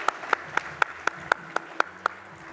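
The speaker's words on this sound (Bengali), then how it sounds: "ওনাদের জন্য একটা জোরে করতালি হয়ে যাক" A single person's hands clapping at an award ceremony, about ten sharp, evenly spaced claps close by at a steady rhythm, with no crowd swell around them.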